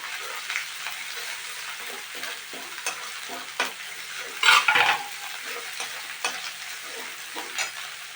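Tomato, grated coconut and ginger-garlic paste fry in oil after the onions have browned, giving a steady close sizzle broken by stirring scrapes and a louder hiss burst in the middle as the paste hits the pan.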